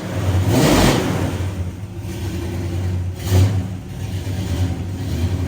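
A 1969 Pontiac GTO muscle car, kept in show-quality condition, idles with a deep steady rumble and blips its throttle twice in short revs, the first one stronger, then settles back to a low idle.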